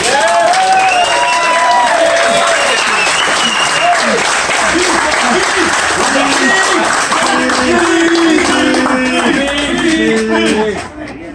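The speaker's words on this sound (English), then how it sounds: "we should give a loud round of applause for Jackson" Loud, sustained applause and cheering from a crowd at a rugby banquet in an Italian restaurant, honoring a player, with voices and whoops mixed into the clapping before it cuts off abruptly.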